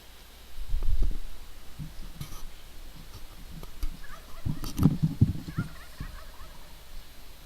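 A wild turkey gobbles outdoors during an archery turkey hunt. Rolling gobble bursts come from moderately near, one around the first second and a louder cluster later, over a quiet outdoor background with no talking.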